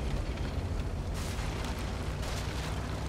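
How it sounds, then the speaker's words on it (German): A tank cannon in World of Tanks fires its final shell, a dense, loud roar of battle noise with deep low-end rumble sustained throughout and a brighter burst surging partway through. "letzte Granate überhaupt"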